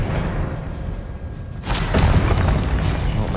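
An Expelliarmus spell is cast in Hogwarts Legacy: after a rumbling lull, a sudden whooshing magical boom bursts out and rings on loudly.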